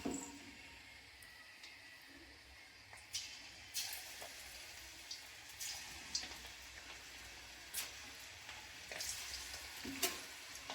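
Cauliflower pakodi are slipped a few at a time into hot oil, setting off a soft, bubbling fry punctuated by scattered sharp crackles and spatters that swell as more pieces go in, close but quiet.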